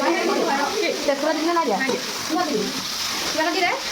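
Steady sizzling of potatoes frying in hot oil, running continuously while a person talks over it.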